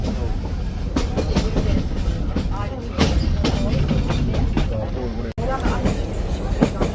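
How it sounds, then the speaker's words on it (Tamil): A train rattles along the rails in Mallorca with a steady rumble and rhythmic clickety-clack beats, loud and close, with voices talking faintly underneath. "இந்த டுக்குன்னு டுக்குன்னு சத்தம் கேட்குறது வந்து ஸ்ரீலங்கா ரயிலில் போட மாதிரி தான் இருக்கும்"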